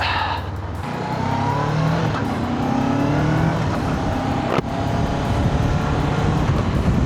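A 2025 Honda NX500 motorcycle on a ride, engine droning steadily and loud as it pulls through rising gears, with wind rush throughout and no talk.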